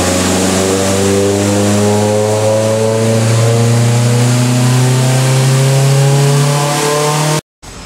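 A turbocharged car engine with a front-mount intercooler revs during a test pull, a loud, continuous roar that climbs steadily in pitch for about seven seconds and then cuts off abruptly.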